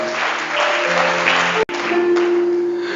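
A church congregation at a deliverance night service claps and cheers together, a dense, steady roar of applause filling the room with sustained tones beneath, briefly cut off before resuming.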